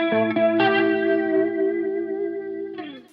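Electric guitar played through a PRS effects pedal, with sustained chords warped by a warbling, chorused modulation that sounds like a chattering voice, ringing loud and close before fading, then a fresh strum at the end.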